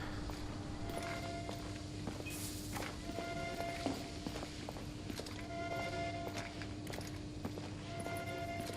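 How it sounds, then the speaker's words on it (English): Footsteps in the video game The Order: 1886, a steady run of soft steps under a constant low ambient hum, with no music or voices. "All you can hear is your footsteps."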